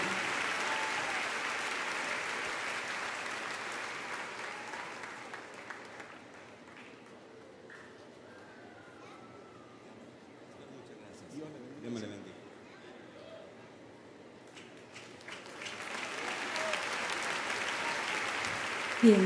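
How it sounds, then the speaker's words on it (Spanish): Church congregation applauds a duo being honored, a broad steady clapping that fades to a quieter lull with faint voices before swelling again near the end. "Recibámoslos con un fuerte aplauso."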